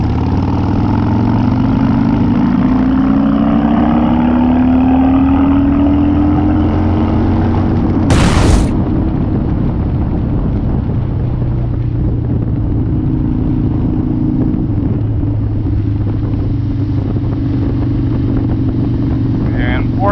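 A Harley Dyna motorcycle engine pulls up through the rev range, pitch rising steadily before a sharp burst near the middle and a lower steady running drone afterward, loud and close.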